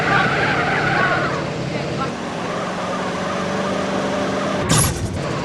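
A car drifting in the MTA San Andreas video game, with sustained engine drone and long tire squeals and skidding, ending in a sharp impact-like burst near the end; speech accompanies it.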